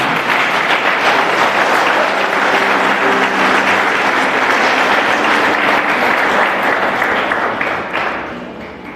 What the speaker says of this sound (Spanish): Si puede darle un aplauso al Señor, déselo.